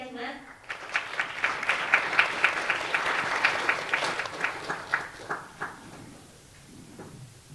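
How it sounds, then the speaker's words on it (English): An audience at a children's world peace summit claps, the applause swelling quickly into a dense patter, then thinning to scattered claps before fading out. "Please give her a big round of applause."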